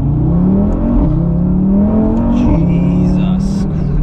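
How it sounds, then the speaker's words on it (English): A tuned Audi RS3 five-cylinder sedan pulls hard in first gear on a canyon road, its engine note climbing in loud, rising drones with brief dips at each surge, heard from inside the car. "Let's do a little first gear pull."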